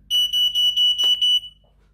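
An Apollo/Hochiki addressable fire alarm sounds a loud, steady high-pitched electronic tone in five or six close pulses during a weekly test after a heat detector is set off, then cuts out into quiet.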